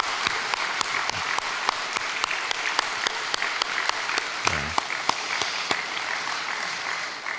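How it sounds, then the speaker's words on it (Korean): A church congregation applauds in a sustained, even wash of clapping, with a few crisp nearby claps punctuating the steady roar and a brief low thump midway. "우리 다시 한번 박수로 격려하겠습니다."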